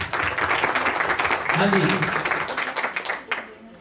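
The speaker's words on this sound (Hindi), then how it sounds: "जोर से ताली बजाएं" A congregation claps loudly and continuously at a church gathering, a dense wash of hands that slowly thins and fades near the end, while a voice speaks briefly over it.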